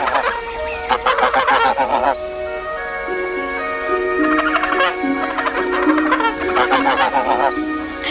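Geese honk and cackle in loud, repeated bursts of calls that come and go, with short gaps between flurries.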